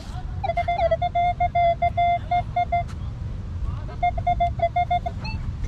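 A Minelab Equinox 800 metal detector in a park sends out a repeated beeping tone, pulsing in two bursts over a low wind rumble from outdoors.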